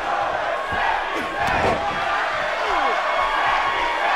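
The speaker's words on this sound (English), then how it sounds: "Just listen to that. The crowd here in the fight zone are split." A loud, roaring wrestling-arena crowd in the video game WWE 2K18 cheers and shouts continuously, a dense wall of voices with a few sharp slams and whoops cutting through.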